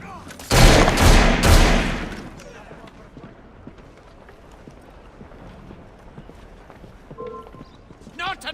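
A short burst of loud gunshots in Assassin's Creed Syndicate, a few heavy cracks close together near the start, followed by faint scattered sounds and quieter background.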